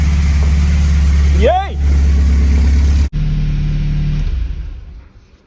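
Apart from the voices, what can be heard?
Porsche 924 engine idling at 1000 RPM after cold start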